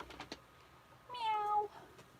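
A single drawn-out cat meow rises clearly out of a quiet room, following a few soft taps, with no speech.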